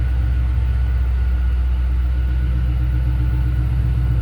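A supercharged 2005 Ford Mustang Saleen S281 coupe runs with a deep, steady engine rumble and a faint tonal hum, loud and close, holding an even pitch without clear revs and with no talking.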